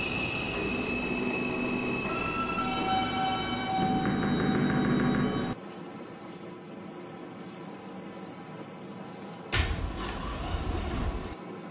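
Roblox shuttle train on a crosstown subway line rumbling along with a steady mechanical drone, sharp wheel squeals, a brief tonal chime, and a loud burst near the end as the cars move through the station.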